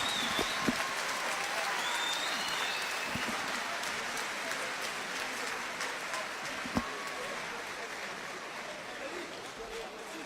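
Arena crowd applauding a returning world boxing champion at a full-contact world championship event, a sustained wash of distant clapping with scattered crowd noise and an announcer's voice over it.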